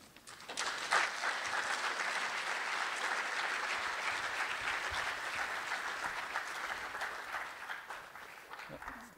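An audience at a university mathematics lecture claps steadily for about nine seconds to welcome the speaker, sustained and dense, tapering off at the end.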